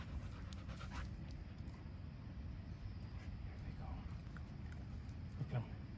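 Two dogs playing tug of war, with steady panting and scuffling close by, a few small thuds and scrapes of paws, and faint rustling throughout.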